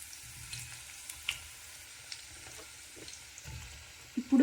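Onions fry in a pan for biryani, a steady crackling sizzle with faint stirring knocks and a few brief clatters near the end, no talking.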